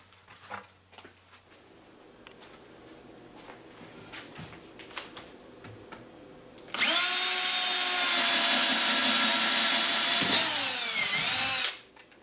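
A power drill fitted with an auger bit bores through a wood board, starting after a quiet stretch with light handling noises and running as a loud, steady whine for about five seconds before stopping abruptly.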